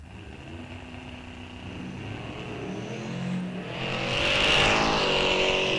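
A 1970 Camaro and another bracket drag racing car run down the strip: a steady engine roar that swells as the cars pass nearby and peaks loudly toward the end.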